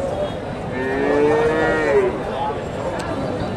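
A Friesian cross-breed bull at a busy cattle market in Bogura lets out one long, loud, drawn-out moo, with steady crowd murmur running underneath.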